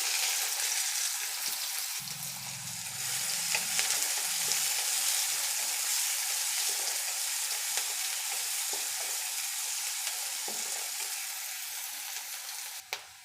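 Chopped medium onion hitting hot oil with cumin, a steady crackling sizzle filling the whole stretch, with brief low clatter of stirring near the start and no voices.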